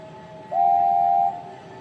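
A single steady whistle tone rises out of a low rumble, holds for under a second, then fades back into the background.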